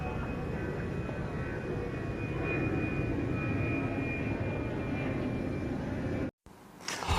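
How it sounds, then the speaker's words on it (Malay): An airplane engine drones steadily at Kota Kinabalu with a high whine over a low rumble, continuous and moderately loud, ending in a brief cutoff. "Masih boleh dengar bunyi enjin kapal terbang lagi kan?"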